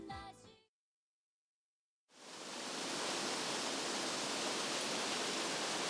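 A garden waterfall in Naha, Okinawa gives a steady, full rushing roar that swells in after a brief silence and stays constant, with a snippet of voice at the very start.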